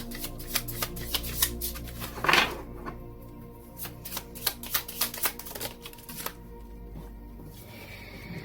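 Tarot cards being shuffled at close range in a quiet room, a run of crisp riffling bursts and soft flicks that come in irregular clusters, with one denser flurry partway through and no talking.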